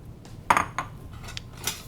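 Dishes and a ladle clink and clatter briefly in a kitchen, a few close, sharp ceramic and metal knocks spaced over a couple of seconds.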